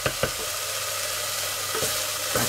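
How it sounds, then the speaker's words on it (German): Tomato paste frying in clarified butter in a pot on a stove set to high heat, giving a steady close sizzle with a few soft clicks from stirring and no voices. "Da können wir jetzt wunderbar das Tomatenmark ein bisschen anbraten."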